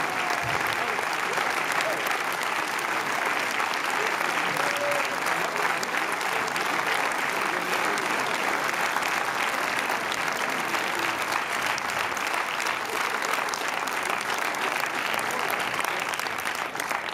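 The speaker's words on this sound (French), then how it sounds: "vous les applaudir vraiment pour eux parce qu'ils sont tous réunis ce soir pour vous" Sustained audience applause fills a Paris film premiere evening, a dense steady roar of many hands clapping without pause from start to end, with no distinct voices standing out.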